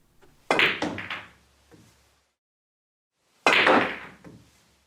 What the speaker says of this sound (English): Here are increasing speeds with a rolling cue ball under normal conditions.